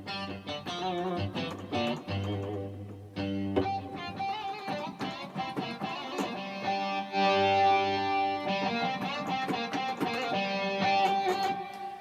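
A heavily distorted electric guitar voice from a Ketron SD90 keyboard plays chords and sustained notes, loud and continuous, with no voices.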